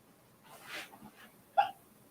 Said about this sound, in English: Apparently I have hiccups.